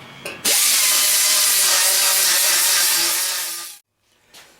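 A power grinder cuts down heavy built-up weld on a Cub Cadet 102 garden tractor, a loud sustained metallic whine lasting several seconds before it spins down and stops, followed by quiet.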